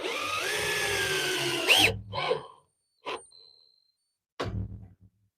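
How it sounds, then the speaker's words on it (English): An old Harbor Freight power drill drives screws into wood in a sustained whirring burst, then winds down, followed by a few shorter, sharper bursts separated by silence, close and loud. "Some super old, well, fairly old Harbor Freight drills."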